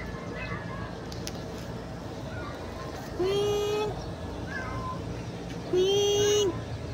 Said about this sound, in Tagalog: At habang papalit po, andito yung ating pusa.